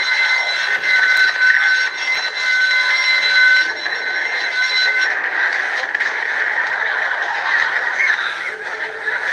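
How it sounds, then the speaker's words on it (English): Alarm ringing in an animated circus adventure show, a loud, steady electronic tone that runs unbroken for the whole stretch with no voices over it. "Quick, Frank, stop the alarm."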